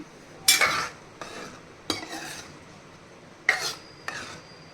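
A spoon scrapes and stirs through thick dal in a pot in several separate strokes with short pauses between them, close by.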